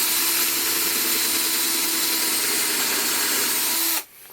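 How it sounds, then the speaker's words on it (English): A power drill bores a hole through a Milescraft Drillblock guide held against a workpiece edge, a steady loud whine holding for about four seconds before cutting off abruptly. "and it allows you to drill a hole right on the edge"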